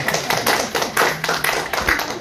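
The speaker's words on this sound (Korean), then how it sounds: "우리 박수 한번 쳐야 됩니다." A church congregation claps in steady, even rhythm during a sermon, a close, dense burst of hands lasting a couple of seconds with no talk over it.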